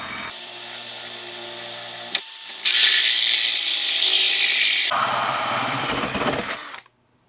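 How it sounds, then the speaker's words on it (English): A drill bores slowly down through an old light fixture into a wooden block beneath, giving a steady loud mechanical whir in sustained bursts that shift in pitch as the bit works through, then stops abruptly. "Take your drill and just go very slowly down through there."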